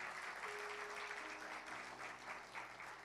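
A church congregation claps together in a steady wash of applause that goes on without a break, heard from a distance and quite soft, with a faint tone lingering underneath.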